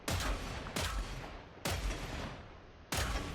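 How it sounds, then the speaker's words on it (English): Four heavy gunshots from an M82-style rifle in a video game, each a sharp loud crack with a fading tail, spaced roughly a second apart, with no talk. "This is like an M82 kind of style weapon."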